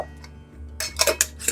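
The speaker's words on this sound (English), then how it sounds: "We're going to put the lid on it." A metal lid is screwed onto a quart glass jar holding white distilled vinegar. A quiet hum comes first, then a run of close, sharp clicking and scraping twists.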